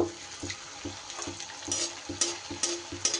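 Potato-and-flour snacks frying in hot oil, a steady crackling sizzle with soft, regular turning or stirring knocks roughly every half second, close and moderately loud with no voices.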